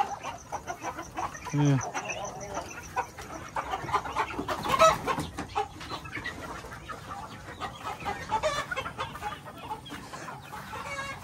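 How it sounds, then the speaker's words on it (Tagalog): Chickens cluck inside a coop on a rural farm in Guimba, Nueva Ecija, with a brief louder burst partway through and a rooster-like call; a few faint voices and background farm noise run beneath. "Yung mga manok nasa loob."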